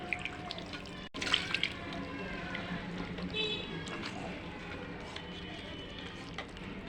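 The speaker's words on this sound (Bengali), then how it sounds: "হালকা পানি দিয়ে এটা চুলায় বসিয়ে দেবো" Water is poured and splashes into a pot of hand-mixed beef for khichuri before it goes on the stove, a soft trickle with faint drips and light background noise.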